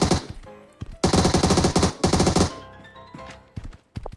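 Rapid bursts of automatic gunfire in PUBG Mobile, two loud sustained volleys of dense shots close by, followed by a quieter tail with a few scattered single shots.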